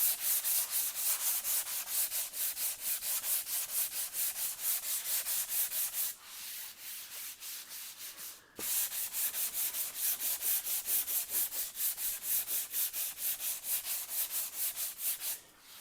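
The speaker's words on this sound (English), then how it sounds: "sanding screen. Just kind of run that across the patch a little bit." A sanding screen is rubbed back and forth over a drywall patch in steady rhythmic strokes. Each pass makes a close, loud abrasive rasp, with one short pause partway through and no talking.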